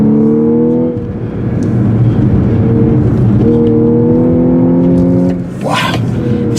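Engine of a 2014 Audi S4 Quattro on a tight racetrack, loud and close, its steady tone rising in pitch, dipping briefly, then climbing again, with a short rushing burst near the end.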